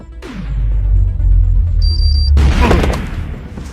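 A loud, deep explosion booms and rumbles with a heavy low roar, then a sharp crackling blast of debris erupts and sustains, close and overwhelming.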